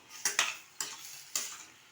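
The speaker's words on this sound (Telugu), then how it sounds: "అన్నీ మసాలా బాగా కలిసేటట్టుగా కలుపుకోవాలి." Three scraping stirs of a spoon through onions and black-eyed peas in a masala-coated pan, each a short bright scrape with a soft sizzle between, close and alone.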